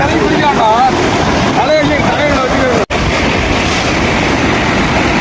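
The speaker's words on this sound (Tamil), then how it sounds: "தண்ணி பயங்கரமாக ஓடுது." Floodwater rushing hard after several hours of heavy rain, a steady broad wash of churning water and wind noise filling the scene, with a brief dropout midway and voices talking over the first few seconds.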